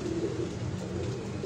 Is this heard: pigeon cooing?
yes